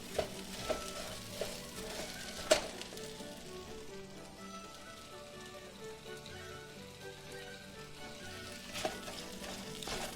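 Ground lamb fries in a hot pan over medium-high heat while it is broken up with a utensil, a soft steady sizzle with occasional sharp clicks and scrapes from stirring.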